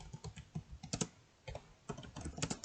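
Keys clatter on a computer keyboard as a search is typed, in quick close bursts with a brief pause in the middle.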